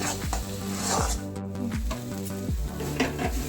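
Spice masala for a katla fish curry sizzling in oil as a spoon stirs it in regular strokes, each scrape sharp and close against the pan over a steady hiss.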